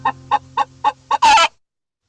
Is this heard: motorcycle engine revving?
no